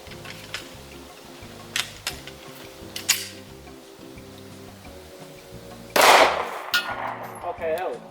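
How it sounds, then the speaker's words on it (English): A single 9mm round fired from a Radical Firearms RF15 AR pistol with a 4-inch barrel gives one sharp, loud crack that rings off, preceded by several small mechanical clicks and ticks over a steady background tone. "Let me fire one more shot and see what happens."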